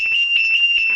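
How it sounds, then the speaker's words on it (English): A loud, steady electronic alarm tone rings on without a break, with faint voices murmuring underneath. "Stand by for the alarm noise."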